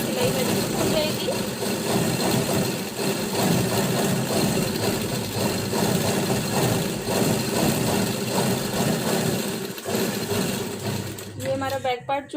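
A sewing machine runs steadily, stitching a summer coat with a quick, even mechanical whir under a woman's speech, stopping abruptly near the end.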